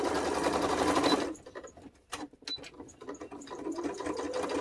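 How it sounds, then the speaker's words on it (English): Sewing machine stitching fabric tags in rapid, buzzing stitches, pausing briefly with a few clicks and taps, then whirring steadily again; close and fairly loud. "You can totally skip this sewing part if you don't like messing with the sewing machine"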